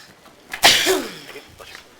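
One loud, abrupt sneeze bursts out in a room during a health board meeting, then fades into quiet room tone.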